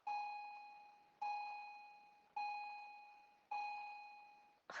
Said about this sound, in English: we got the bells in the background